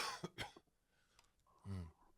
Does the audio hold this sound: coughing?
yes